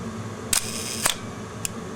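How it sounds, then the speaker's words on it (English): A vintage film SLR camera's cloth focal-plane shutter fires at a half-second speed: a crisp opening clack, a pause, then a closing clack, followed by a faint click, close and isolated. "Really nice shutter."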